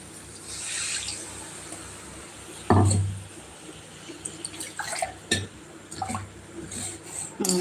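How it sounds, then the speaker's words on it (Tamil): Water splashes and trickles in short bursts into a cooking mixture for quail fry, with one louder pour in the middle followed by softer drips and small splashes. "இந்த தண்ணியை இதில் சேர்த்துக்கலாம்"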